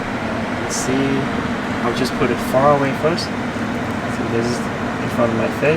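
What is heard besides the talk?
Tesla Model Y climate control air blowing from vent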